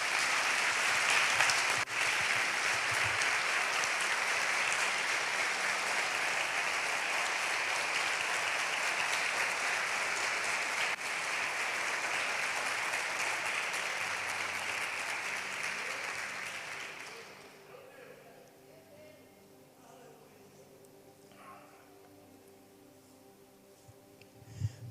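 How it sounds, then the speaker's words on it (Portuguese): A church congregation applauds loudly and steadily for about seventeen seconds during a sermon, then the clapping drops away to a quiet room. "Você pode aplaudir esse Jesus?"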